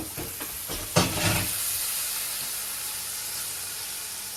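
A spoon stirs chickpeas into a hot cooking dish, giving a few scraping strokes over a steady background sizzle and hiss that continues alone afterward.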